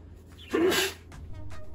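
A dog sneezes once, a single loud, sharp burst close to the microphone against a quiet room background.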